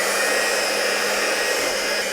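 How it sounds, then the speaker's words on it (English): An electric mixer beats brownie crinkle cookie dough after the dry ingredients go into the wet, giving a loud, steady, close whirring drone that runs unbroken with no talking. "We're gonna put the dry ingredients into the wet. And then we're just gonna mix."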